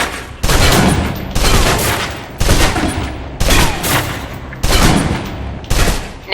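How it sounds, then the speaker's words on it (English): A submachine gun in the video game Alpha Protocol emptying its magazine, loud close bursts in six separate volleys with brief pauses between them. "Now, let's move on to the submachine gun. Now let's empty the clip."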